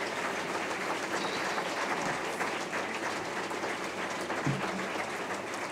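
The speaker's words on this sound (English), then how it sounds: "And this applause is for you." Distant, fairly faint applause from a large audience at a symposium in Brussels, a continuous hiss of clapping with a few low thumps.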